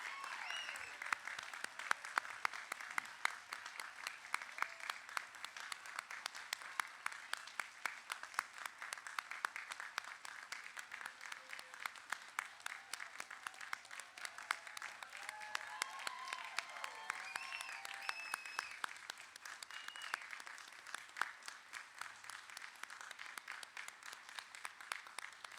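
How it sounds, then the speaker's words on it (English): An audience at a Coast Guard boatswain's mate A School graduation ceremony claps for the graduates, giving sustained, fairly distant applause that rises and eases over about twenty-five seconds. "Would you please join me in a round of applause for the graduates"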